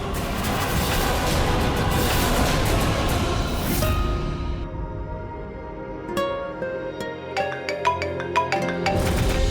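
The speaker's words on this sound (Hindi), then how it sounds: "नाहर जी का फोन" A mobile phone ringtone plays through a TV drama scene, a repeating electronic melody of bright, evenly spaced tones growing clearer over music toward the end.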